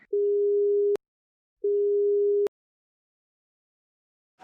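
Two long, steady low beeps with a pause between them, the flat busy tone of a disconnected phone line, loud and alone.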